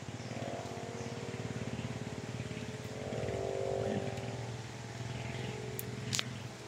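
A motorcycle engine drones steadily at a moderate distance, swelling briefly as it passes before easing off, with no talking over it.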